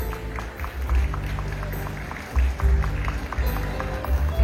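Audience applause at the Unduk Ngadau state-level pageant contest in 2023, rendered as a steady wash of clapping from a live crowd with a few louder surges and some low rumble underneath.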